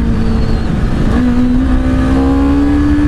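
A Honda CBR250RR motorcycle in sport plus mode pulls hard, its loud, close engine note climbing steadily in pitch as it accelerates over a constant road rush.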